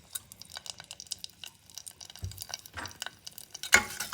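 A spoon stirs cumin seeds and curry leaves in a tempering pan, giving soft irregular scraping and clinking with a faint sizzle, quiet and close, with one sharper knock near the end.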